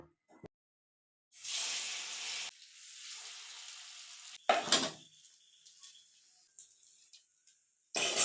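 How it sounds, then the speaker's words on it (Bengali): Banana flower pieces hit hot oil in bursts of sizzling, a loud hiss that fades, then another sharp sizzle and clatter of a utensil, separated by silent gaps. "তেলটা গরম হয়ে গেছে এবারে আমি এগুলোকে ভেজে তুলে নেব"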